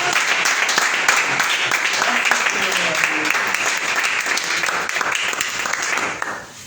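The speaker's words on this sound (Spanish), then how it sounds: "le damos un aplauso al Rey de Reyes" A congregation at a church service claps in loud, continuous applause with faint voices underneath, the clapping holding steady before dropping off sharply near the end.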